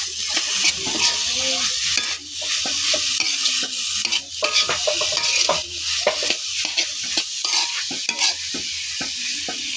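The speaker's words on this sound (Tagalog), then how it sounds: "Haluin na po natin siya." Tambo, or bamboo shoots, are stirred in a sizzling pan: repeated scraping and clattering utensil strokes sit over a constant frying hiss, close and fairly loud.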